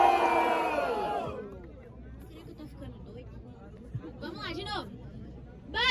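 At the Batalha Da Leste rap battle in Brazil, an amplified host's shout is followed by a brief burst of crowd cheering for a rapper, which quickly fades into scattered chatter and whoops.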